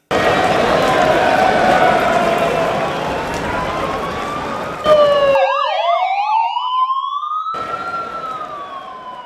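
Wailing ambulance and fire engine sirens rise and fall over busy street traffic, one switching to a fast yelping pattern before a long sweeping wail continues.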